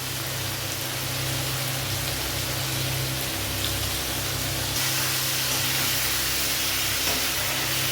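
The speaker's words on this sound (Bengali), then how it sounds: "ভালো করে নাড়াচাড়া করে একটু ফ্রাই করে নেব।" Chicken pieces frying with salt and turmeric in a pan, a steady dense hiss and sizzle that fills the whole stretch, close and even without pause.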